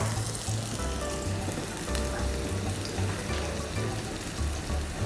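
Shallots and garlic fry in a pan with a steady, continuous sizzle and crackle lasting the whole stretch, close and moderately loud, over a low pulsing rumble, with no one talking.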